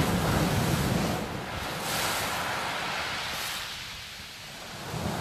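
Sea waves wash in at Eastney beach as a steady, close broadband surf roar, swelling and easing in long surges under gusty wind buffeting the microphone, with no voices present.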